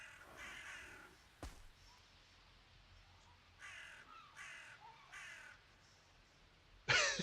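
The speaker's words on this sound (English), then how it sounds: "The birds are flying through my walls." Crows cawing in Valheim, scattered faint caws spread across the stretch with quiet gaps between them, a sharp knock partway through and a louder burst right at the end.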